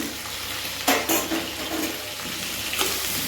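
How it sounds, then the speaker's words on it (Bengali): Vegetables frying with turmeric in a pan: a steady, soft sizzle with a few sharper stirring scrapes near the start, close up and without talk. "এর মধ্যে আমি এই এতটা হলুদ দিয়ে আমি ভেজে নেব"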